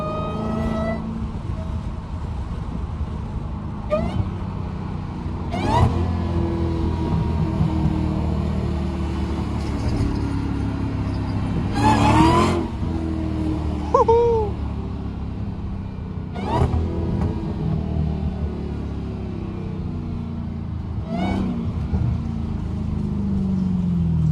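Dodge Challenger Hellcat with no hood, its engine rumbling deep from the driver's seat, rising in several revving bursts and acceleration pulls between idling stretches, loud and close throughout, with no talking.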